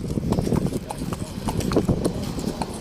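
Hooves clip-clop in an uneven, repeated rhythm close by, with people talking over the steps.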